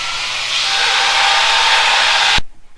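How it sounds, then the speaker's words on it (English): A grinder works metal on an FJ45 rock crawler build, a loud, close, steady high-pitched whine for over two seconds before it cuts off and winds down. "I gotta go do a little grinding"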